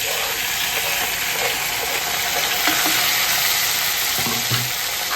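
Ginger and tomato fry in a pan for a fish curry, a dense, steady sizzle that stays loud and even throughout, with a few small crackles and no talking.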